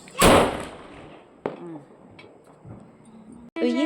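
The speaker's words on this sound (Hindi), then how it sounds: "तो ये है तैयारी पटाखे की, देसी पटाखा।" A homemade desi firecracker goes off at a Diwali celebration with one loud, sharp bang, then a smaller crack a moment later, with faint voices between and talking at the end.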